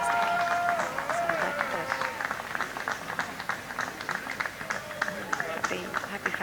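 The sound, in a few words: crowd of fans cheering and applauding at a 3D championship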